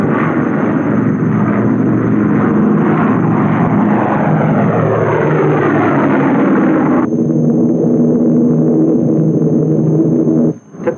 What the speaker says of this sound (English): switch the manless controls of the drone aircraft to a mother plane aloft